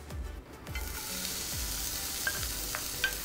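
Chopped onion sizzles and fries in hot olive oil in a heated pan, a steady loud crackle with a few scraping stirs of a wooden spoon early on, no talking.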